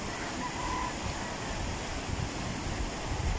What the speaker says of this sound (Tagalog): Baha po yan na nanggaling pa ng Tayabas, Lukban, na dumadaloy patungo sa Iyam Bridge, papunta na ng Dalaycan.